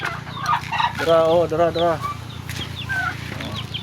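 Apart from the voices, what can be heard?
pet chickens and turkeys clucking at feeding time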